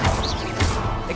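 The Expelliarmus disarming spell cast in Hogwarts Legacy, two heavy crashing impacts about half a second apart, each with a whooshing magical swell, loud and close.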